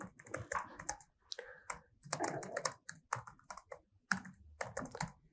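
Someone types a prompt on a computer keyboard, close and clear. Rapid bursts of key clacks come in uneven runs with short pauses between them.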